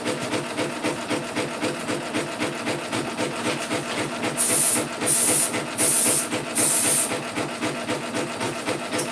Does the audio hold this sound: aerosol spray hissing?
yes